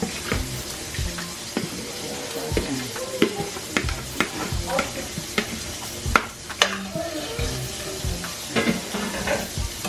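Shrimp go back into a pan of sizzling pepper sauce for lime shrimp pasta and are stirred, a steady close sizzle broken by repeated scraping and clacking of the utensil against the pan.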